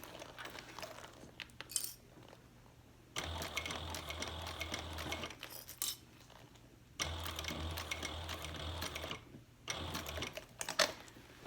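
A sewing machine topstitches a handbag in two sustained runs of steady mechanical whirring, each several seconds long, separated by pauses filled with quieter handling noise.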